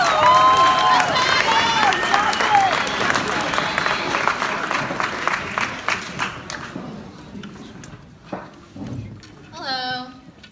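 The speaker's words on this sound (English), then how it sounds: "applause for DandI AA." An audience claps and cheers loudly, with whoops and raised voices over dense applause that gradually thins out, followed by a few scattered claps and a voice.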